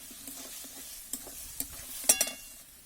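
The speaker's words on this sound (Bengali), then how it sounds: "এরপর হলুদ দিয়ে দেবো, দিয়ে নাড়াচাড়া করে নেবো" Spices and turmeric being stirred in a frying pan, with a low sizzle under it and several separate scrapes and clinks of the spoon, the loudest coming near the end.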